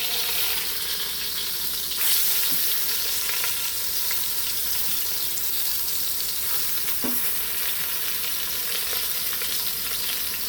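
A pot roast sears in a pan with rosemary and garlic, producing a loud, steady frying hiss close up, with a few brief clinks and no voices.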